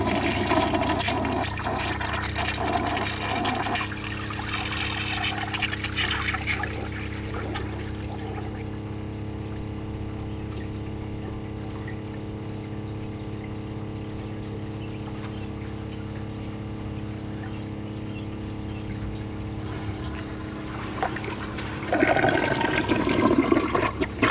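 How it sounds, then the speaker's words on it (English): A 1986 Kohler Wellworth toilet being flushed for a second time while clogged: a loud, steady rush of water that runs for a long stretch, then swells again near the end as the tank refills, with no one speaking. "I'm gonna give it a second flush after the tank is full, just to see if it unclogs itself."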